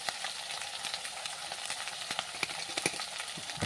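Cumin, turmeric and dried chilli sizzle steadily in a hot pan, a close, even frying hiss broken by scattered crackles and occasional stirring scrapes, with no voices.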